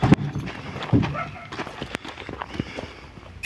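Hooves clop on hard ground as a horse shifts and steps in Chorna Tysa, Zakarpattia region, Ukraine, irregular thuds and knocks close by, with brief voices in the background.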